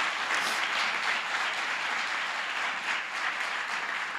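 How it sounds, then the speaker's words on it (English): A dense, sustained round of audience applause at an entrepreneurship competition, steady and moderately loud throughout with no speech over it. "I also think we owe an enormous round of applause, again, to the Ansary family for putting up this generous prize today."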